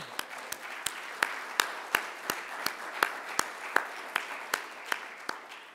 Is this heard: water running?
no